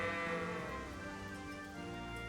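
A sheep bleats in the medieval video game Kingdom Come: Deliverance, a wavering, drawn-out cry heard alone against a soft game background.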